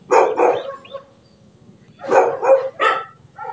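A brown dog at a city veterinary office barks in two short bursts, a pair of close, loud yappy barks, a pause, then three or four more in quick succession.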